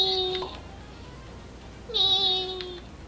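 A voice in an anime imitates a kitten's meow, two high, wavering, tearful mews separated by a pause, clear and close.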